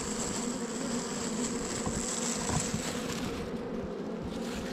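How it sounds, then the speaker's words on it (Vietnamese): A dense swarm of bees buzzes steadily around a hive inside a mountain cave, a continuous loud droning hum with no pauses. "ong nó có xu hướng đi xuống bên dưới"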